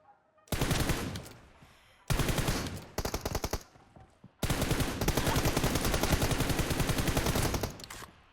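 Automatic gunfire in PUBG Mobile, rapid close bursts of shots in several long sustained strings separated by short pauses, loud and unbroken by talk.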